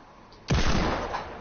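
A single heavy gunshot in a video game, a sudden loud boom followed by a rumbling decay, alone with no talk.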